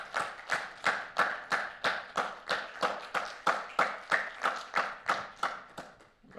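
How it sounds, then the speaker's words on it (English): Evenly paced handclaps from a conference audience at an IoT event, roughly three claps per second in a steady rhythm lasting about six seconds, fairly close and moderately loud, then fading at the end. "let's thank Prabha once again with a warm applause"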